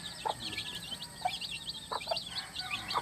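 A weak, sick chick peeps and clucks in short, high, repeated bursts, with fuller clucking from nearby chickens and a faint farmyard murmur underneath.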